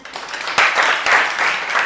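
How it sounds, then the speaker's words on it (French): Applause from a studio audience on a French-language quiz show, a short burst of clapping that swells and holds through the brief moment, fairly close and steady. "Applaudissez pour lui"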